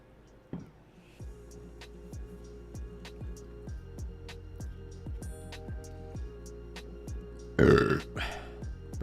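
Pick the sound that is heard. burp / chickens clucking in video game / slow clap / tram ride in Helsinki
burp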